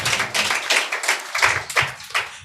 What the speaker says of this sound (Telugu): అట్టి సేవకురాలను బట్టి చప్పట్లు కొడదుము గాక.